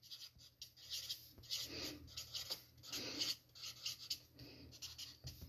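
A pen scratches out a question on a small piece of paper, quiet bursts of rasping strokes in an irregular rhythm, close and alone.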